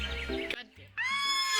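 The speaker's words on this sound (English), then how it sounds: "Suddenly move and surprise the horse and it rears up, kicking you directly in the face." A horse in the video game I Love You Colonel Sanders gives a bright, wavering neigh that closes a short, loud mix of game sounds and ends abruptly.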